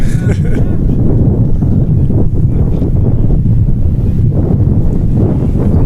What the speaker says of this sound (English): real strong gust right here